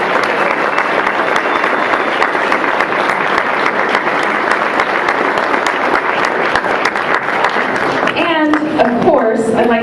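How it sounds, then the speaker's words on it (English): Sustained, loud applause from a summit audience fills the room at an even level, dense clapping throughout, with a voice emerging over it near the end. "Let's give them one more round of applause."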